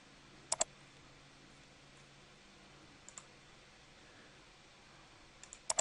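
Computer mouse clicks at a desk, a quick double click near the start, one faint click midway and a rapid cluster at the end, crisp and close over quiet room tone.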